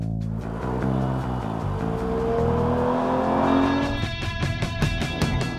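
A car engine revs hard and climbs in pitch as it accelerates, loud and close, with a faint tire squeal along the way.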